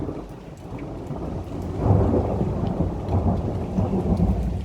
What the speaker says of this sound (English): I don't understand how we can get thunder and lightning actually